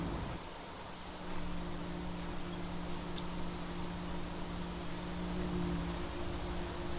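Rain falls as a steady, soft hiss over a low droning tone in the survival video game The Planet Crafter, continuing evenly with no voices.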